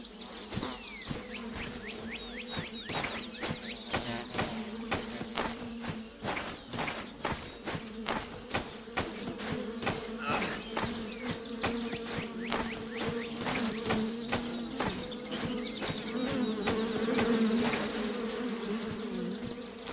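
Bees swarm around a hive in a video game, a continuous close buzzing that holds steady throughout, with a quick, regular run of footsteps tapping beneath it.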